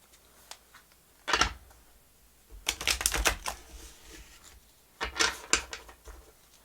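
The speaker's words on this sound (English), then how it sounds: "Just giving a good shuffle before we start." Tarot cards are shuffled in short riffling bursts, a few quick rustling flurries separated by quiet pauses, close and crisp.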